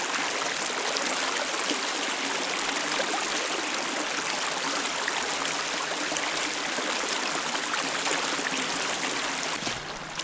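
Cold, muddy creek water rushes and babbles steadily and loudly up close as a mountain bike crosses it in snowy woods at Liberty Reservoir, Maryland, with no voices.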